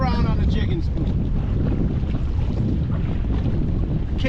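Steady, loud wind buffeting a microphone on a fishing boat offshore while jigging for salmon and trout, a continuous rumbling roar with no pauses and the hiss of open water behind it.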